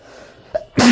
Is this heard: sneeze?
yes